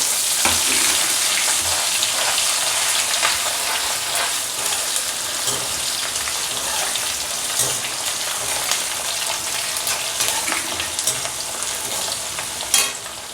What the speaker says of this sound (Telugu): కొద్దిగా ఓడిని వెలుగు ఎర్రగడ్డ వేసుకోవాలి